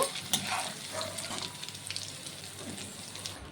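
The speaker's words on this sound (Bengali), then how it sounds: "তেলটি গরম হয়ে গেছে, চিংড়ি মাছটাকে ভেজে নেব" Hot oil in a pan, just used for frying prawns, crackles and sizzles up close with scattered pops over a continuous hiss.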